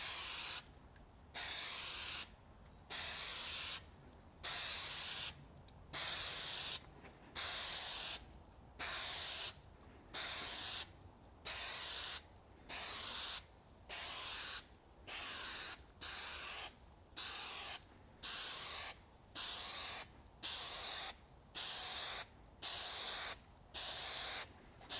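3M spray adhesive is applied in regular bursts onto a GM OBS regular cab truck headliner, about sixteen even hisses of roughly a second each separated by short pauses, close and steady with no talk.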